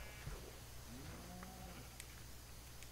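Minecraft sheep bleat faintly over a steady background hiss, with a couple of short wavering calls near the middle and a few light clicks. No voices are heard.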